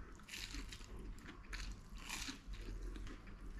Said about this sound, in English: Listen to the crunch of that cheese.